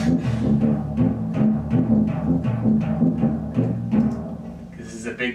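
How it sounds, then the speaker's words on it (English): Timpani and tuba playing together in big fight scene music, low pounding hits and brass notes in a driving steady rhythm, full and close, tapering off at the end. "so timpani plus tuba sounds like this."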